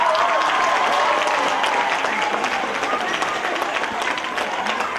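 Dense theatre applause from an audience for the cast of a 2019 staging of Cose 'e pazze, loud at first and easing slightly while it keeps going without a break.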